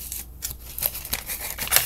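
Several short, crisp snips from small scissors, spaced irregularly, close by and fairly quiet, with faint crinkling in between.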